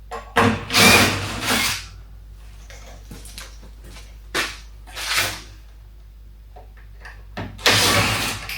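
A honey extractor being unscrewed with a Phillips screwdriver; loud, scraping bursts of tool-and-metal handling come in separate clusters, with quiet gaps between them and no talk.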